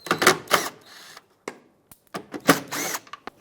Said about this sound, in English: take a 10mm socket, remove both of these bolts